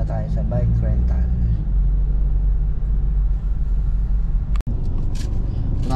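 Busy street traffic in Pattaya, Thailand, a steady low rumble of cars and motorbikes with engines droning close by, under continuous talk from people nearby.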